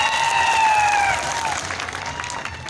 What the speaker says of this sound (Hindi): श्रद्धा के रूप में जरा तालियों की गड़गड़ाहट से पंडाल को जरा